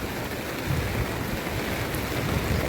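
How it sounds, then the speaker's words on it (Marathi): Heavy monsoon rain pours steadily over a waterlogged housing society, a dense, continuous hiss and splash with no voices. "पाऊस भरपूरच आहे."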